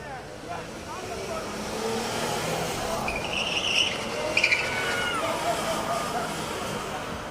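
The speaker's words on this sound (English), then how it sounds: "We've seen people in motorcycles burning out and doing donuts." Vehicles burn out and spin donuts during a street riot in Portland, tires squealing and skidding at a distance under a noisy crowd, with engine noise rising and falling throughout.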